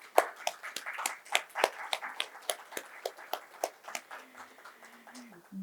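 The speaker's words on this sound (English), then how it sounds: "please put your hands together in a massive round of applause and welcome our moderator, Mr. Maximus Lee" A conference audience at a panel discussion claps in a steady, fairly faint patter of individual hand claps that thins out toward the end, with no talk over it.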